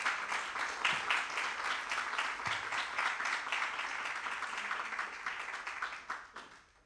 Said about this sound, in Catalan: un aplaudiment també per ells